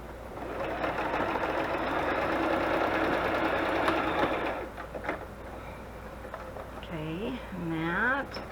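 A sewing machine runs in a steady close hum as it stitches through paper, stops midway, and a person then speaks briefly over the quiet.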